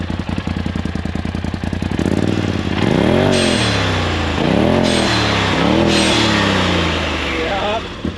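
A stage 2 tuned car engine fires up cold with a fast lumpy idle, then is revved hard three times in quick rising-and-falling bursts, loud and close with a deep grumble, as people talk alongside.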